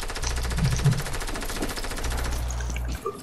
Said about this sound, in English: I'm getting shot from everybody in the whole street